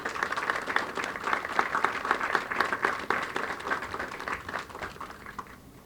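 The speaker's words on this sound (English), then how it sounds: "So please have a round of applause for our staff here at HART." A crowd applauds staff at a ribbon cutting for a compressed natural gas fueling station, a sustained wash of clapping that gradually fades, moderately distant and fairly quiet.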